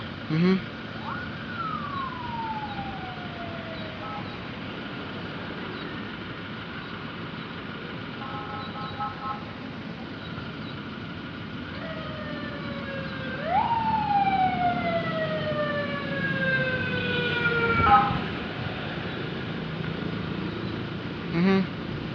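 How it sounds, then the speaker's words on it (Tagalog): A Foton ambulance from the municipality of Sison, Surigao del Norte sounds its siren in rising and falling wails with short yelps, fairly loud and close over steady road noise. "Ambulance from Municipality of Sison, Surigao del Norte"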